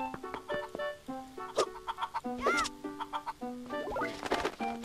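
Chickens cluck and squawk in the Zelda Phantom Hourglass video game, a busy run of short clucks and rising squawks from several birds, fairly loud with no talking.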